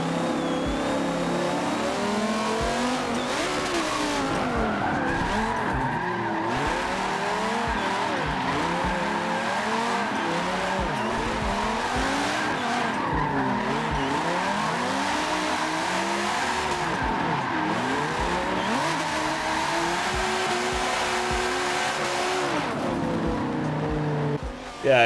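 Cars drifting in Forza Motorsport: engines rev and wail continuously as tires squeal and screech through slides, a dense, loud mechanical blend of rising and falling pitches with a faint voice underneath.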